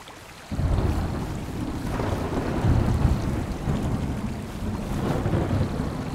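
Rolling thunder and steady rain from a thunderstorm in the survival game Smalland, a deep continuous rumble swelling loudly over hissing rainfall with no voices, building after a quiet opening half second.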